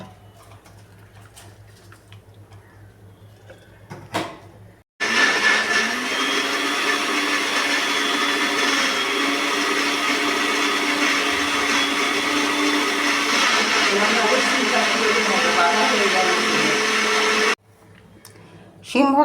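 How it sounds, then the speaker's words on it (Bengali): An electric mixer grinder grinds onion and garlic in a long, loud, steady whir that runs for about twelve seconds. Quieter room sound comes before and after it. "নিয়ে এটা এবার আমি মিক্সিতে পিষে নেব।"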